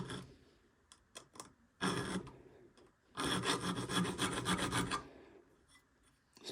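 A hand file cuts a groove in a workpiece in several rasping strokes, the short first scrapes followed by two longer, louder passes separated by brief pauses.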